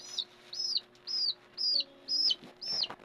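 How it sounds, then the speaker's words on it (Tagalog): Newly hatched chick peeping, six evenly spaced high, clear chirps repeating about twice a second, close and fairly soft against a quiet indoor background. "may bagong sisiw ako"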